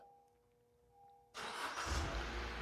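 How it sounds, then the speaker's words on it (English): A 2014 Honda Civic with manual transmission started by a Viper remote start system: a quiet electrical hum, then the engine catches abruptly and settles into a steady, fairly loud running rumble. "To start the vehicle, I'm going to press on the start button once. We have a confirmation that the system received the command. The car will start."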